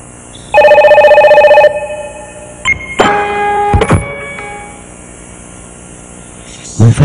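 A mobile phone rings in a short, loud, steady burst of electronic tones for about a second, then stops. Scattered clicks, knocks and faint tones follow in a quiet room.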